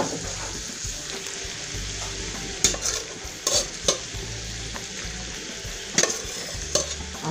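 White rice stir-frying with leftover chicken thigh meat pulled off the bone, a steady close sizzle broken by several sharp scrapes and clinks of a spatula stirring the pan, with no talking.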